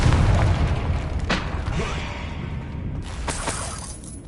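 A Confringo blasting curse in Hogwarts Legacy bursts with a loud, close boom and shattering crack, followed by rumbling debris and a second sharp burst near the end.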